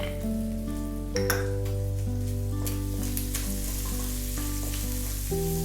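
Ginger and garlic frying in hot oil in a pan for Filipino chicken stew, a steady close crackling sizzle with occasional louder pops and stirring clatter, over a low steady hum.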